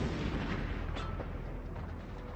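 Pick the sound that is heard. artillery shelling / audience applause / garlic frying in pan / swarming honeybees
artillery shelling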